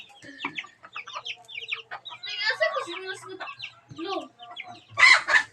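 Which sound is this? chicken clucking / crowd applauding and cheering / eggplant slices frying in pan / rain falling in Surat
chicken clucking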